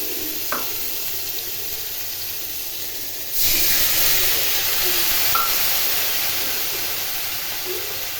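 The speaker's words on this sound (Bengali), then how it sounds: "এই মাছ ভাজা তেলের মধ্যে পাঁচ ফোড়ন দিলাম, এর মধ্যে পেঁয়াজ, আদা, লঙ্কা, টমেটো বাটা দিয়ে দিলাম।" A steady sizzling hiss rises sharply partway through as onion, ginger, chili and tomato paste hits hot mustard-oil left from frying fish, continuing loud and even with no talk.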